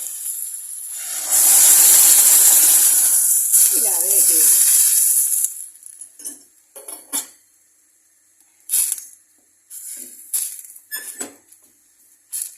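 Hot potato cooking water poured into a soup pot for Turkish potato soup (terbiyeli patates çorbası), a loud steady hissing rush lasting several seconds, followed by brief clinks and small kitchen sounds.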